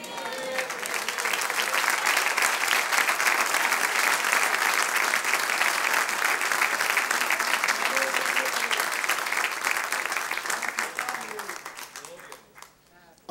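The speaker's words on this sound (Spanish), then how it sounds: "Le damos un aplauso a Dios" Sustained applause from a church congregation during a Sunday service, dense clapping that holds steady for several seconds before fading out near the end.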